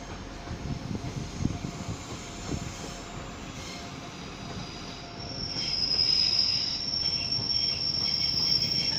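Train wheels squeal at Manchester Piccadilly station, a steady high-pitched metallic whine rising over rumbling rail noise in the second half, with faint insect-like chirping in the background and no voices.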